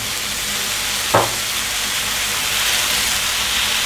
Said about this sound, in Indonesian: Aduk-aduk dan berikan air sedikit agar matangnya